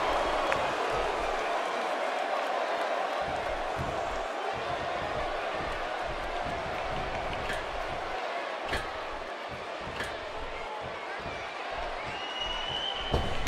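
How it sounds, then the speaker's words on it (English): A wrestling arena crowd roars and cheers throughout a Undertaker vs Ric Flair match in the WWE 2K18 video game, a dense steady wash of noise with occasional thuds and commentary voices on top. "I don't think I've ever heard this Uniondale crowd more excited for a match."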